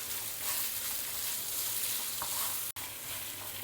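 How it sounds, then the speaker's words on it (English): Onions frying in a pan with tamarind and salt over a low flame, a soft, steady sizzle with faint stirring and one sharp tap against the pan near the end. "Add a little bit of salt till the onions are well done. Continue frying it."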